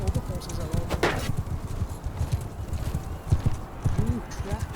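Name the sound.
horses clip-clopping and neighing in a video game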